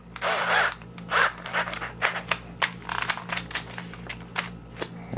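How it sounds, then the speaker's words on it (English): Harsh bursts of power drilling and grinding as a part is drilled out of a Ferrari sun visor, in short uneven spurts over a low steady hum, close and fairly loud. "Let's drill this out."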